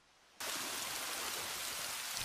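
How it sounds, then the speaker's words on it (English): Steady rain pours down in a scene from the anime Wind Breaker, starting abruptly and then holding as a loud, even hiss with no voices over it. "Damn, it's raining again."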